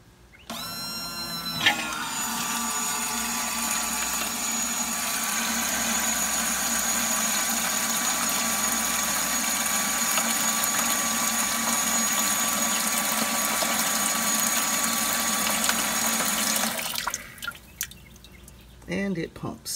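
An Aeromotive fuel pump sitting in a stock GTO fuel bucket runs off a jump box, giving a steady, loud, close whine and hum that holds for about fifteen seconds before cutting off.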